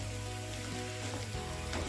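Bottle gourd pieces tossed into a hot pan and mixed, a faint continuous sizzle with low stirring rumbles, quiet and close without speech.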